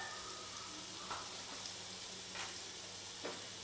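Butter melts into about two tablespoons of hot oil in a pan for chicken pasta, making a faint, steady hiss with a few soft spits.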